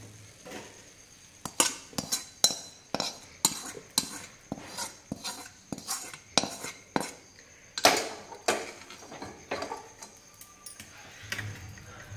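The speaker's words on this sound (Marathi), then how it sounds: "आणि आता हे चिरमुरे आपण व्यवस्थित मिक्स करून घेऊया" A spoon mixes spiced topping into puffed rice in a metal bowl for Kolhapuri bhadang, making a steady run of close, sharp clinks and scrapes with brief gaps between strokes.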